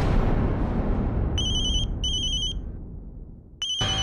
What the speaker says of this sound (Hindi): ऑफिस से ही फोन आ रहा है